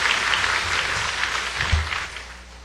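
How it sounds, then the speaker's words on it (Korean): Church congregation applauding after a choir's hymn, a dense steady wash of many hands clapping together at moderate loudness, continuous throughout with a faint low rumble underneath. "박수로 다시 한번 하나님께 영광 돌리고 우리 서로 격려하겠습니다"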